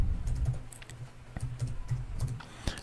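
Typing on a computer keyboard, a quick, irregular run of close, soft key clicks and taps lasting a few seconds, with no voices.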